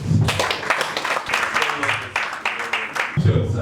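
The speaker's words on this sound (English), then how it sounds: "the IDP deserves a round of applause" Crowd applause and clapping throughout, dense and fairly loud, with some voices mixed in.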